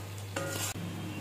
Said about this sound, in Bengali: কসুরি মেথি দিয়ে দিলাম, ভালো করে মিশিয়ে নেব।